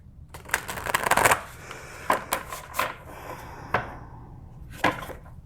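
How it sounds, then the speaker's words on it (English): A deck of animal spirit oracle cards is shuffled by hand, giving several close bursts of riffling and soft slapping card sounds separated by short pauses, with no talking. "Let's pull some animal spirit cards here."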